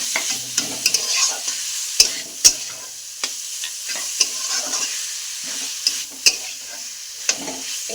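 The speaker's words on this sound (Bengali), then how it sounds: "এবার আমি কিন্তু সুন্দর করে এটা কষে নেব।" Chicken singara filling of coarsely chopped meat being stir-fried in a pan, a steady sizzle broken by repeated sharp scrapes and knocks of the spatula, close and alone with no talk.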